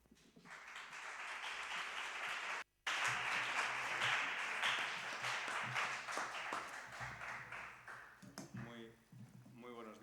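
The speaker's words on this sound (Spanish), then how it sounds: "Un fuerte aplauso." Audience applause at a talk on faith amid persecution, a broad sustained wash of clapping from many hands that breaks off briefly near three seconds, resumes, then fades out toward the end.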